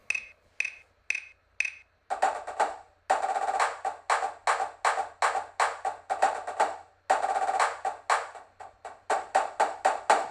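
Crisp drum strokes play a fast, steady rhythmic pattern with brief gaps, each hit clean and single with flams removed, sounding close and dry without talking; Finale notation software playback.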